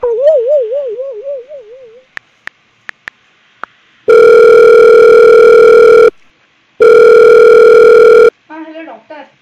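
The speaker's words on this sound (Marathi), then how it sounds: "आपल्या फॅमिली डॉक्टरला फोन लावून गोळ्या विचारू का?" A phone call to the family doctor: a few quick dialing beeps, then two long, loud ringing tones with a pause between them, after a brief warbling tone at the start.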